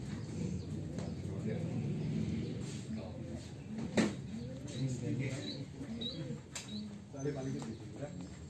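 Young songbirds set out in the sun, with faint chirps and soft coo-like calls scattered over steady outdoor background noise; people talk nearby throughout.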